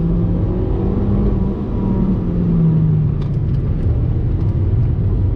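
A Nissan Sentra NISMO with a 6-speed manual accelerating in second gear, a steady loud engine drone heard from inside with the pitch slowly climbing, plus a few faint clicks near the end.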